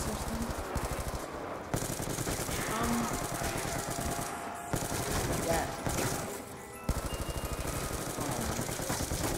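Rapid automatic fire from the Executioner gun in a zombie game set on a farm, long sustained bursts of fast repeated shots with brief pauses, loud and close, while a voice talks over it.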